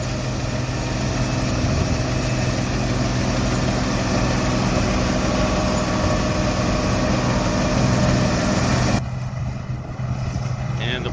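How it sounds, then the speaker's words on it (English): A John Deere 95H combine runs at a vintage autumn harvest event in Davenport, Washington, giving a steady, dense engine rumble that continues evenly before dropping away abruptly near the end. "here we have that John Deere 95H"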